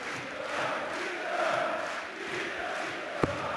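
An arena darts crowd in Munich chants and cheers for Peter Wright during a German Darts Masters semi-final. The crowd noise is a dense, sustained roar that swells and dips, with one sharp click near the end.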